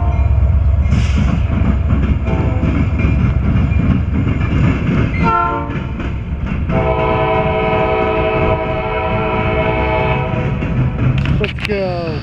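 A Norfolk Southern or CSX local train passes close by in Marion, Ohio, with a steady rumble and clatter of wagons, while its horn sounds in several sustained blasts, some overlapping.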